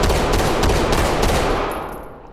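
Rapid, loud gunfire from the MK-5 handgun in the tactical shooter Ready or Not, a dense burst of shots that blend together before trailing off into a fading tail.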